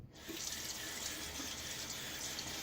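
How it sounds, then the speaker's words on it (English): Water runs steadily from a faucet as a shaving soap tub is rinsed under the stream, a continuous close splashing wash with no talking. "Rinse off the side of the tub here to clean off the threading."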